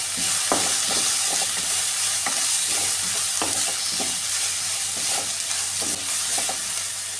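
Ingredients sautéing with salt in a pan for Kerala cabbage thoran make a steady, close frying hiss, broken by regular scraping stir strokes roughly every half second.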